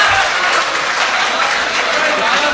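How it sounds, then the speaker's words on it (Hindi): An audience at a Urdu poetry recitation gives loud, dense applause. The clapping is close and continuous and fills the whole moment. "जोरदार तालियों से इस्तकबाल किया जाए"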